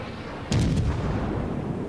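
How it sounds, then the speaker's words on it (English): An 8-inch naval gun salvo in the World of Warships game sounds as a single heavy, booming blast that rolls on into a long low rumble, loud and alone. "we'll keep hitting him with the 8-inch guns"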